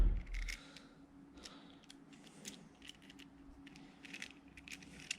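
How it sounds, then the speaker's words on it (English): An Allen key works a screw loose on a RockBros bicycle light, giving soft intermittent clicks and small metallic scrapes close up in a quiet room after a brief low thump. "So we undo that screw."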